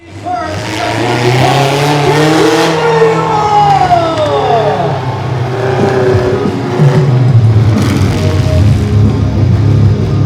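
Mini monster truck at a live show in Frederick, Maryland, engine loud and close, revving and roaring continuously with rising and falling pitch, a voice faintly underneath.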